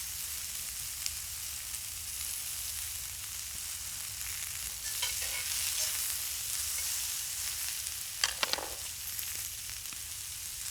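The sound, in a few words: onions, red peppers, cactus and corn frying in pan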